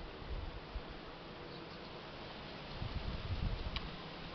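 Honey bees buzzing around a Buckfast-queen nucleus hive, a faint, steady droning hum with no voices.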